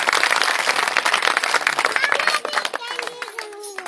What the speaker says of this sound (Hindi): आदरणीय अनीता जी, तालियां बजाकर स्वागत करें।